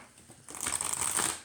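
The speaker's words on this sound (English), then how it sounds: "I'll give this a shuffle a number of ways here." A brand-new oracle card deck, the Mausolea Oracle of Souls, is shuffled up close: a soft slide of cards, then a quick crisp riffle of flapping cardstock lasting about a second.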